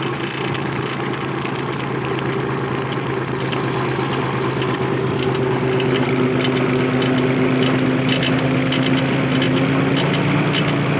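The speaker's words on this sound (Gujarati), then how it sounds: "મારો અવાજ નહીં સંભળાય ટ્રેક્ટરના હિસાબે" A tractor engine idles and runs steadily on a salt farm in the Rann of Kutch, a loud, close, continuous low throbbing drone with no speech over it.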